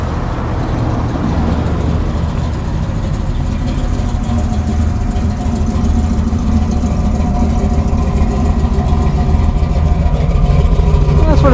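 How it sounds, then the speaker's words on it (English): A 1970 Chevrolet Camaro SS with a 350 V8 idles just after a cold start, a loud, close, continuous low rumble with a steady burbling throb that holds evenly throughout. "I just fired it up. It's just starting to slow down a little bit with the idle."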